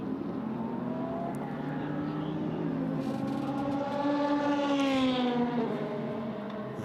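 Ferrari 296 Challenge race car with a twin-turbo V6 at a circuit qualifying session, engine note rising steadily through the gears, moderately distant and continuous over about seven seconds with no talk.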